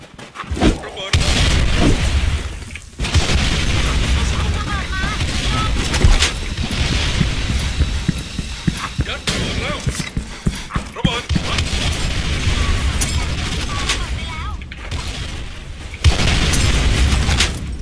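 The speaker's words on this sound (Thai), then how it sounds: "ระเบิด" Bomb blasts in the online shooter Special Force 2 boom repeatedly, loud and close, mixed with gunfire bursts while a player talks over the action.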